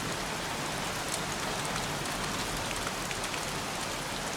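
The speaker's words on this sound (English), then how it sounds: "Goddamn rain. Soaking wet." Heavy rain pours in the video game Heavy Rain, a loud, dense and unbroken hiss of drops on surfaces throughout, with no voices.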